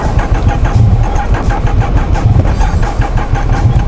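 A car engine cranks over and over in a rhythmic, labored churn without catching, loud and close, in icy winter conditions.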